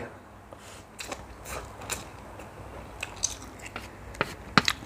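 Someone bites and chews very spicy food, producing faint, irregular crunches and mouth sounds close to the mic in a quiet room, with a few sharper bites near the end.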